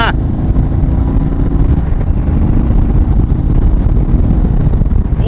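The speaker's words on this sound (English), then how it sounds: "We'll get a rolling start and see where she takes us. And second gear, go." A 2022 Indian Super Chief Limited motorcycle pulls hard in second gear from a rolling start, its engine a loud, continuous close rumble with wind buffeting throughout.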